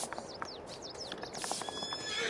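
A horse in the farming video game Farming Simulator 22 gives a short, fairly faint whinny, with light clip-clop hoofbeats running alongside.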